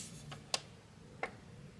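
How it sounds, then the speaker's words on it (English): An alarm clock ticking in a quiet bedroom at night, with two or three faint, sharp ticks spaced unevenly over a low background hum. "Setting my alarm clock."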